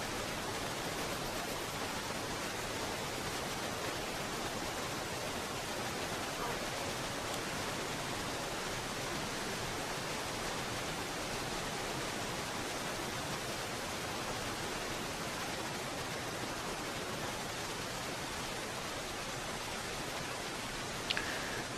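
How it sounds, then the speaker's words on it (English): A waterfall roars in a steady, loud, unbroken wash in the snowy wilderness of The Long Dark, with a strong wind blowing through it and no other sounds standing out. "Got the waterfall and the wind blowing."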